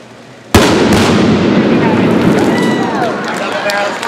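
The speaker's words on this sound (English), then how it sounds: "Double barrel explosion." A sudden loud blast from an exploding hydrogen-filled bottle followed by another, then a long roaring rumble with excited voices and cheering underneath.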